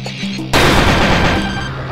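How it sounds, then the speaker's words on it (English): A charged laser fires in Kirby Star Allies during a Meta Knight boss fight, bursting in suddenly after a brief quiet lead-in as a loud, dense, sustained roaring blast with a crackling edge that fades slightly toward the end. "I'm a firing my laser"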